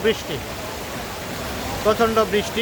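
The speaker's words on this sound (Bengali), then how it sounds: "বৃষ্টিতে আমি অপেক্ষা করতেছি কখন বৃষ্টি থামবে।" Heavy rain outside a vegetable market in Guangzhou makes a constant broad hiss, while someone speaks over it in short bursts near the start and end.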